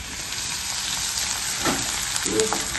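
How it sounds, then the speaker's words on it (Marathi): Onion and tomato paste frying in a pan of spice masala, a steady close sizzle throughout with a couple of brief scraping stirs, no talking. "त्याच्यामध्ये कांदा आणि टोमॅटोची पेस्ट घालायची आता ते छान परतून घेते"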